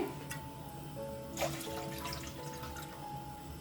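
Water pours into a cooking pan in a short, soft splashing trickle with a brief louder gush partway through, recorded close and fairly quiet.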